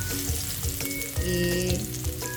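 Sliced ginger frying in hot oil for fish escabeche, a loud, close, continuous sizzle with soft stirring scrapes now and then and no talking.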